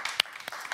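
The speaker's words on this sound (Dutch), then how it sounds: "En ik wil eigenlijk van jullie nog even een heel hartelijk applaus voor deze twee dames." Applause at a film festival panel, heard as a few distinct claps spaced out over under a second, fairly faint and close.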